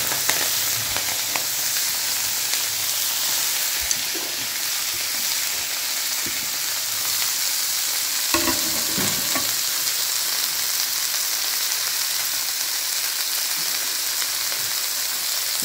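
Fenugreek leaves (methi) sautéing in a hot pan give a loud, continuous frying sizzle, with occasional stirring knocks and a louder scrape of the utensil in the middle.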